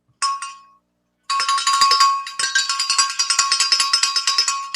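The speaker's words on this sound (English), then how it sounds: "All right, the bell has been rung." A cowbell is struck once and rings out briefly, then after a short pause it is shaken rapidly in a loud, continuous clanging rattle that keeps a steady beat to the end.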